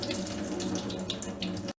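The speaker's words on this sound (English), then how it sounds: "drain the water" Water drains off soaked, washed rice in a steady, close rush that pours continuously and cuts off abruptly at the end.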